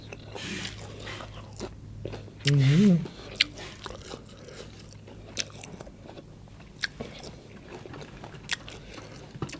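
Close chewing and crunchy bites while eating a spicy Thai dancing shrimp salad with young bamboo shoots, scattered soft crunches throughout, with a voice talking over the eating.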